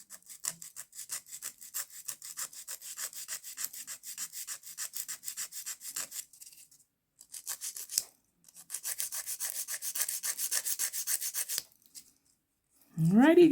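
An acrylic nail is filed with the 100-grit side of a hand file: close, rapid rhythmic rasping strokes in bursts, pausing briefly between passes.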